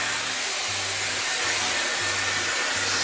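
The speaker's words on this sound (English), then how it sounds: "I'm going to use this hot brush tool and then plug it in again." Dyson Airwrap hot brush styling tool running on high heat while straightening long thick hair, a loud steady close-up whooshing airflow with a constant motor whine and no talking.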